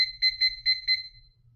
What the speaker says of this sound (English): let me go ahead and put my 5 minutes on my timer